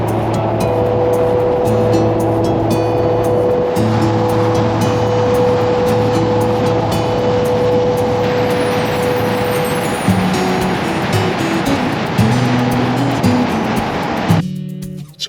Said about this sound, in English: Cruising down the road